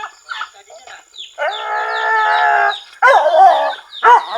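Close, loud gobbling and rattling calls from fowl come in bursts with short pauses between them, harsh and buzzy, with no talk over them.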